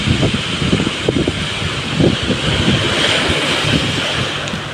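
Ocean surf rolls in wave after wave near the Manila shoreline, a loud roaring wash mixed with heavy wind buffeting the microphone, with no voices heard.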